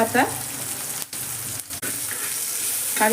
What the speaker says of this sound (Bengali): সর্ষে আর পেঁয়াজটা একটু নেড়ে নেবো আমি হালকা করে